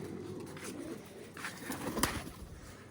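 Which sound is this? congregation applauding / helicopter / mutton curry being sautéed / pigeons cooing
pigeons cooing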